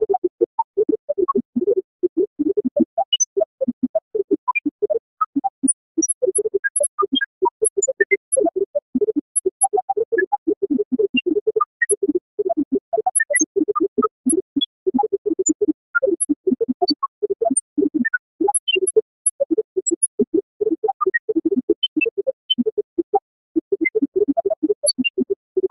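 Radiation detector spectrum from a radioactive coffinite sample rendered as sound: a dense, continuous crackling stream of rapid clicks and scratchy pulses, steady and moderately loud for the whole stretch, with no voices.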